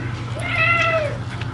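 A cat meows once in a long, drawn-out call with rising and falling pitch, fairly close, over a steady low hum during a backyard brisket smoking session.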